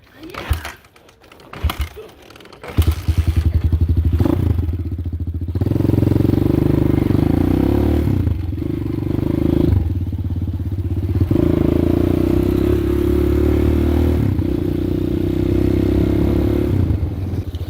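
A Hawk 250 supermoto motorcycle being ridden, its engine droning loud and steady with rising and falling revs after a few opening clatters, and a voice briefly heard.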